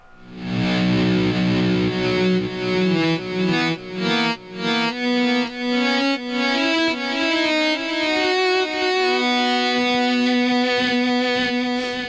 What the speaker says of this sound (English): for that one echo thing, this one, I used the volume pedal